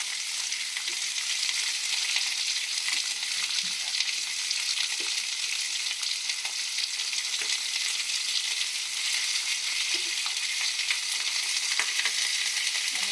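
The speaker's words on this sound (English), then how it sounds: "We want to just leave them nicely positioned where they are so that, again, we can get a good sear on those lamb chops." Lamb chops searing in a cast iron pan: a steady, dense, loud sizzle of hot fat that hisses continuously without pause, close up, with no talking over it.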